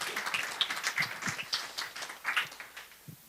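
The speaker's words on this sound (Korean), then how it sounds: "박수 한번 크게." Audience applause at a lecture hall talk, a moderate patter of individual claps with a loose, uneven rhythm over a few seconds.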